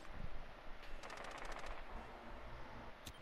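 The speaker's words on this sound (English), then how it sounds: "I hear gunfire, but they're not doing anything." Video game gunfire arrives as a quick burst of rapid automatic shots in the middle, followed later by a single sharp shot, all fairly faint against low background noise.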